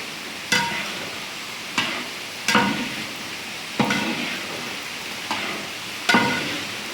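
A spoon scrapes and stirs through thick mutton chops curry with coconut in a pan, giving about six separate scraping strokes at steady intervals over a soft background sizzle.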